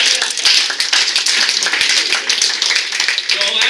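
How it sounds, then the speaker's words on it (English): Audience applause at a community town hall meeting for White Center and North Highline, a steady, dense wash of many hands clapping close by that holds at even strength throughout. "Give them a round of applause."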